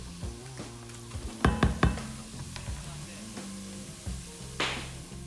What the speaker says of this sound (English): as the turmeric and the powder cumin and coriander start to mix with the oil